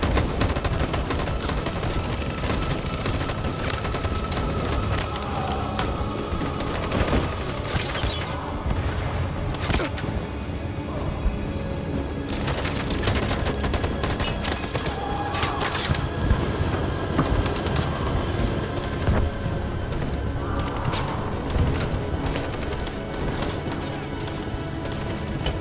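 Sustained gunfire in the Detroit: Become Human video game, with dense rapid bursts and crashing impacts filling the whole stretch at a steady loud level, no clear pauses.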